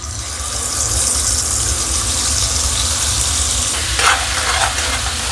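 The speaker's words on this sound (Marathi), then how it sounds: "आता दळलेला मसाला टाकून देते।" Ground masala fries in hot oil in a pan with a loud, steady, close sizzle, joined briefly by a stirring scrape near the end.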